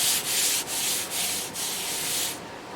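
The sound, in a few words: sanding a 1927 Harmony Lindbergh wooden guitar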